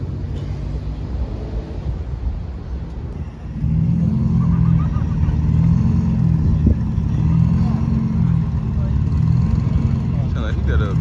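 A modified car fitted with a ProCharger supercharger at a Memphis car meet: a loud, close engine rumble swells and settles into a deep, pulsing drone, with voices talking in the background.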